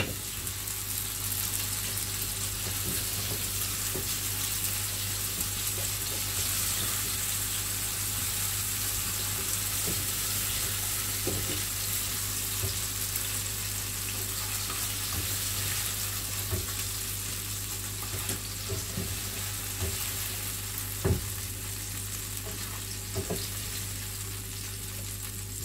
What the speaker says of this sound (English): And we'll leave that to fry.